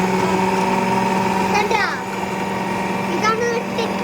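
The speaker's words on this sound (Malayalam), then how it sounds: "അപ്പോൾ ഗായ്സ് നമ്മൾ ഉള്ളി ഈ മിഷലിൽ ഇടാൻ പോകുന്നു" A mixer grinder whirs steadily with a high motor whine while it grinds onions for chicken biryani, and a person speaks over the noise.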